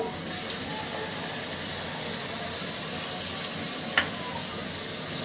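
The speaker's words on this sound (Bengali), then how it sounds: "আমি এখন দিয়ে দিচ্ছি এর ভিতরে মশলাগুলো।" Spices go into frying onions in a pan along with ginger, garlic, cumin, cardamom and green chili paste, and the mix sizzles steadily in a constant hiss. A light clink is heard near the end.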